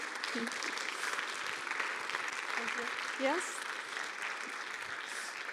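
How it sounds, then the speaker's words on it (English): Steady applause from a conference audience after a keynote fills the clip, with a few brief spoken words heard over the clapping. "and a big applause again"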